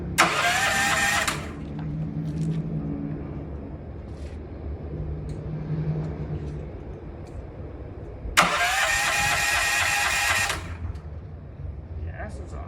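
A small gas engine with its choke set sputters into a loud, near, buzzy running roar. It drops to a rough idle, then revs up again, with voices faintly under the engine noise.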